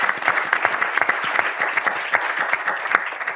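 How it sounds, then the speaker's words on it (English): Audience applause at a foundation's 30th anniversary community event, a dense, steady clapping from a sizable crowd heard up close and alone for a few seconds. "So another round of applause"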